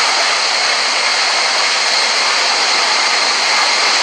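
Airliner jet engines roar at full power during a takeoff roll in Real Flight Simulator, giving a loud and steady broadband rush that holds throughout with no voices.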